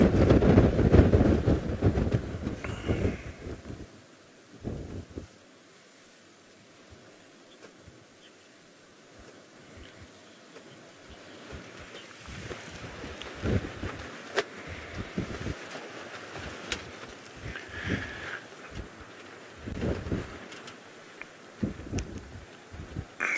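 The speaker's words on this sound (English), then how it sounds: "the majority of East Africa is experiencing this incredible wind." Strong gusting wind batters the microphone during a sunset safari drive in East Africa, loud rumbling bursts at the start easing into fluctuating gusts and buffeting, with no voices.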